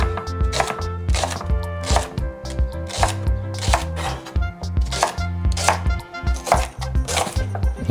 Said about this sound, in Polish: Najpierw łodygi rabarbaru pokroimy w takie centymetrowe kawałeczki.